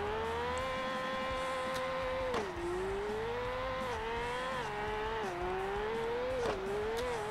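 A Toyota GT86 drift build in the CarX Drift Racing Online game holds a steady high-revving engine whine that dips and climbs with throttle shifts while drifting, continuous and close, with no speech.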